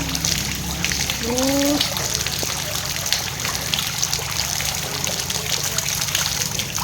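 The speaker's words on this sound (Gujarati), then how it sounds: "બારીશ ખૂબ બધી બારીશ છે" Steady broadband hiss of heavy rain pouring down continuously, with a brief voice in the background early on.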